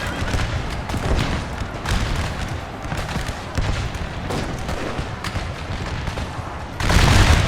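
Rifle volleys crackle in an American Civil War battle game, with repeated ragged bursts of musketry and booming shots spread across the scene, dense and continuous, with faint voices underneath and a louder surge at the end.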